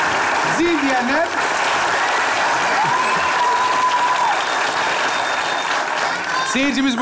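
Studio audience applause at a Turkish comedy sketch show, a dense steady roar of many clapping hands filling the whole stretch, with brief voices cutting in at the start and end.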